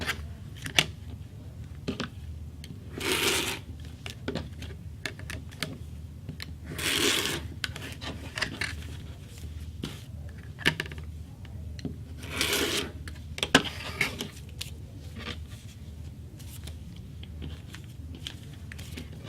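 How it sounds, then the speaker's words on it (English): Quilt fabric strips cut along marked lines with a ruler, giving repeated crisp slicing and rustling strokes at irregular intervals, close and moderately loud with no talking. "Now what we're going to do is cut out on the cut lines."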